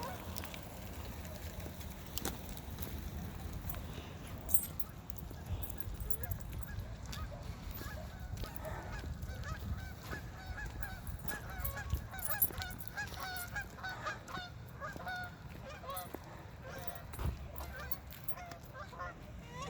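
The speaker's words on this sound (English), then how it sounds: "I don't know if we can hear the geese coming in" Geese honk repeatedly at a distance over a steady outdoor background rumble in a park in Payson, Arizona, with calls scattered throughout.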